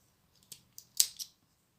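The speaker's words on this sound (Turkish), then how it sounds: "Şimdi artık kesiyorum." Scissors snip through knitting yarn while a knitted bag is being made, a few quick close snips, the last pair loudest, with no talking.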